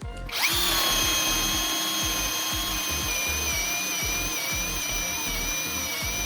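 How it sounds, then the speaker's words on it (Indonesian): A cordless drill with a 1-inch bit at speed 2 in drilling mode runs steadily with a high whine, boring into material continuously for several seconds, close and loud with a rhythmic low chugging underneath. "Langsung aja upgrade ke mata bor 1 inch speed 2 mode drilling."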